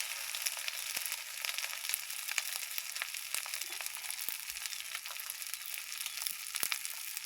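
Cumin paste and spices fry in a pan with a soft, steady sizzle dotted with small crackles and pops, fairly faint and with no voices.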